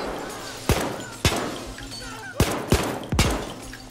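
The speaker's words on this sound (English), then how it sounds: "Does smashing expensive wine count as breaking?" Expensive wine bottles smashed in a Payday 2 mall store during a Mallcrasher heist, five sharp glass breaks in quick succession, each followed by a brief crashing tail, with faint talk in the background.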